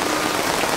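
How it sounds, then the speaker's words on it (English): Steady rain falling during a flood on Cape Cod, a dense, even hiss that continues without pause for under a second with no voices. "watching it rain"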